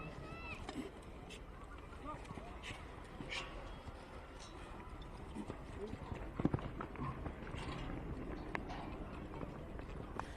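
Hooves of More Hope, a Baha partnership-owned horse ridden by Mitchell Hoy at a campdraft, clip-clop faintly and irregularly through steady outdoor background noise and crowd murmur, with voices talking in the distance.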